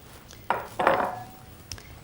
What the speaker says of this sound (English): I'm going to carefully slide the eggs into each one so I don't break the yolks